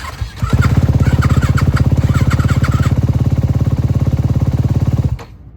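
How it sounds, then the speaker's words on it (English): A Yamaha motorcycle fires on a cold start and settles into a loud, steady, rapid-pulsing idle close to the recorder for several seconds before cutting off abruptly. "Yamaha VS Honda cold start test"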